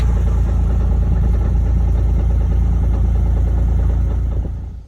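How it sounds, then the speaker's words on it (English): A Kawasaki Mule utility vehicle engine idles while warming up before an oil change: a steady, close, loud low rumble that holds even throughout, easing off slightly at the very end. "One of the first things I do is warm up the engine."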